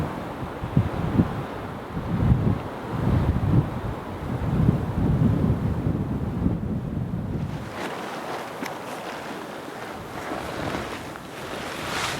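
Strong outdoor wind of about 10 mph with 15 mph gusts buffets the microphone in rumbling gusts, with a broad rushing roar that eases slightly toward the end.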